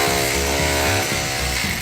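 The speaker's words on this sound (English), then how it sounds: "The fine and non-existent art of drilling holes into bricks without making them crack." Power drill boring into brick: a loud, continuous grinding whine with uneven pulsing as the bit bites into the masonry, close by and with no talk.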